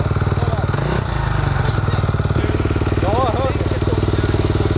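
A supermoto motorcycle engine revs hard during a wheelie on an asphalt track, a loud, steady buzzing drone with a brief dip and surge, close to the mic and mixed with wind and some talk.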